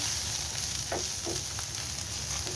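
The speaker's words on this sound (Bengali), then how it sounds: "লাল করে ভেজে নেবো" Chopped onion fries until reddish in a pan for a tangy-spicy egg bharta, with a dense, loud, constant sizzle and a couple of soft stirring scrapes close up, no voices.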